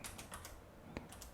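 Soft, rapid keystrokes on a computer keyboard, entering a search query, quick irregular taps close by with one sharper key press near the end, no voices.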